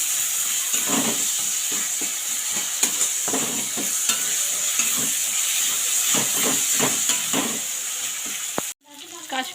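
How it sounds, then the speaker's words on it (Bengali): Onion, garlic and spices sizzle in a hot pan, with a steady hiss and repeated scraping stirs of a spoon, until a sudden knock and quieter sounds at the end. "এবার এই মশলাগুলোকে ভালো করে কষতে হবে।"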